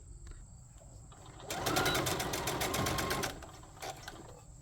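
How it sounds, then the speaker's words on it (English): A sewing machine stitches a boxy bag with backstitching. After a quiet start it runs in a fast, even rattling burst for about two seconds, stops, then gives a brief extra stitch near the end. "make sure to start sewing just before and then finish sewing just after that hole, making sure to backstitch at the beginning and end again."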